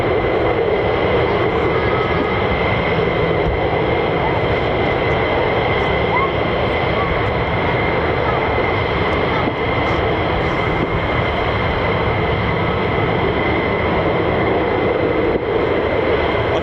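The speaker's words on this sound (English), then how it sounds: "I can also hear F-35s in the distance as well." Distant F-35 fighter jets taxi at the RAF Lakenheath airbase, a steady droning jet-engine roar with a sustained whine that holds unbroken throughout, with some speech mixed in.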